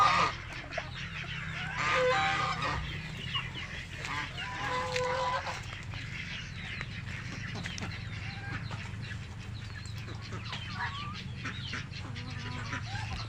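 Chickens cluck and squawk in scattered bursts inside a chicken house, several birds close by over a low steady hum, with faint speech now and then.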